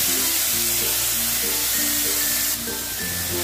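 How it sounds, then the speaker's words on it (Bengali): Shrimp lightly frying in a hot pan, giving a steady, close sizzle and hiss of oil that runs continuously throughout, with a slight drop in level near the end. "চিংড়ি মাছগুলোকে আমি বেশি ভাজবো না, হালকা করে ভেজে তুলে নেব।"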